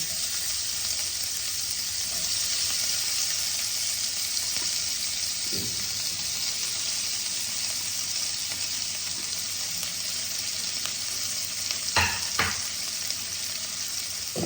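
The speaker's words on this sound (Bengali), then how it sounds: "এবার আমি পেঁয়াজ কুচিগুলো দিয়ে দিলাম।" Chopped onions frying in a pan for a Bengali local-fish curry, a steady, close sizzle running the whole time with a few faint clinks of utensils.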